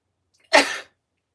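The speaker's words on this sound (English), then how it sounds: "I'm going to sneeze, you guys." One sharp, close sneeze bursting out of silence and fading quickly.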